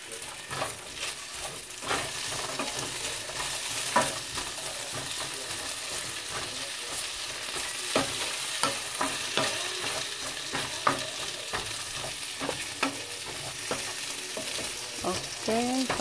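Potato pieces fry in a pan with a steady close sizzle, broken by frequent scraping stirs and clinks of a utensil against the pan, for a simple potato and egg dish; nobody speaks.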